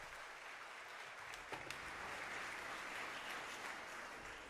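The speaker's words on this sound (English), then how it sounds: "Let's have one more round of applause for our drum set soloist, Saturn Carter." Audience applause at a high school percussion concert following a drum set solo, steady dense clapping from a crowd throughout, moderately loud and even with no talk over it.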